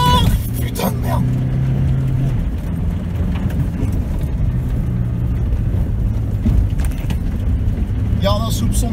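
A car on an offroad track with its engine droning and revving up and down beneath near, excited talk from people inside.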